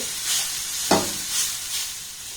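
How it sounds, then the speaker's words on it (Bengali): Grated carrot fried in a pan over a low gas flame gives a soft sizzle, with gentle stirring swishes rising and falling and one sharp scrape of the utensil against the pan midway. "গ্যাসের ফ্লেমটাকে একদম লো রেখে গাজরটাকে একটু নাড়াচাড়া করে ভেজে নেব"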